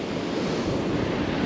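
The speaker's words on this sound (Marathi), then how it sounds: "तुम्हाला बॅकग्राऊंड साऊंडला वाऱ्याचा आवाज येतच असेल" Strong cold wind blows over Kihim beach at Alibag in the evening as the tide comes in, making a dense, unbroken roar of gusting air and surf close to the microphone.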